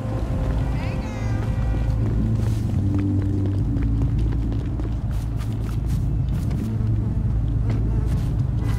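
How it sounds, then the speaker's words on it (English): A car rumbles steadily nearby near an alley behind a park, a continuous low engine drone with faint voices mixed into the noisy background. "You hear the car? To the right."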